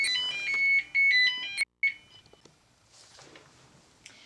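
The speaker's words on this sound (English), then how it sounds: "Your phone's ringing." A telephone rings in a room in a series of loud electronic trills with short pauses, cutting off abruptly, followed by quieter background noise.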